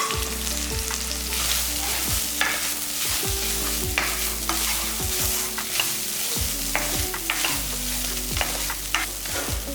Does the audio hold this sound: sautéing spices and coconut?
yes